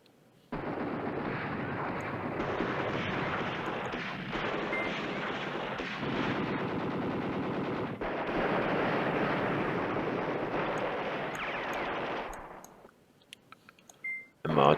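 Sustained, dense rumbling gunfire and artillery barrage in the Command Ops 2 war game, loud and continuous for about twelve seconds before cutting away, followed by a few faint beeps.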